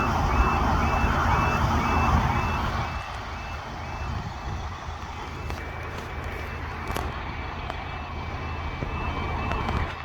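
Level crossing alarm at Drumbane Road in Craigavon ringing steadily with a repeating electronic tone over loud, continuous road and engine rumble, with no talk.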